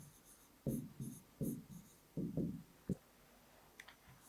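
A pen writes an example letter by hand on paper in short scratchy strokes, close and quiet, with a few soft taps between.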